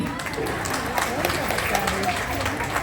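Audience at a Tamil spiritual discourse and lamp-worship gathering clapping steadily throughout, a dense even patter of many hands, while a voice speaks over it.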